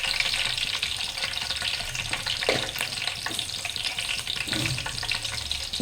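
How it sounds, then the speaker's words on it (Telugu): Cumin seeds and curry leaves crackle and sizzle in hot oil, a steady bright frying hiss with a few faint stirring knocks, close by and without talk. "ఇదిగోండి ఒక స్పూన్ జీరా వేసుకోండి"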